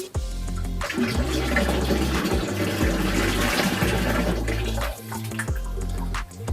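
Ordinary tap water pours into a bathtub in a home bathroom, a loud, close, continuous rushing and splashing that barely changes over several seconds.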